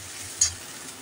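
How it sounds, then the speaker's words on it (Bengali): Onions and tomato paste cook in a pan over low to medium heat for a point gourd dish with peanuts and mustard, making a soft, quiet sizzle with one brief clink partway through. "লো টু মিডিয়াম আঁচ করে এটাকে এখন কষতে দেব।"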